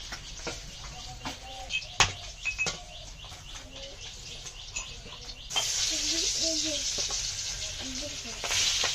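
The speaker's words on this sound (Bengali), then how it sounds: "মাছটা আমার ভাজা হয়ে গেছে এখন তুলে নেবো এইভাবে সব কটা মাছ ভেজে নেবো" Fish frying in hot oil on a home stove, a steady sizzle that grows louder and brighter partway through, with clinks and stirring sounds and some birdsong in the background.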